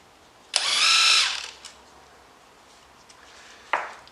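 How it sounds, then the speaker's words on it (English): A rattle gun (impact wrench) loosening bolts on a go-kart engine during a clutch replacement: one loud, close, buzzing burst about a second long, then a short second burst moments later. "We have to take off these 5 bolts in here, and we're using the rattle gun again"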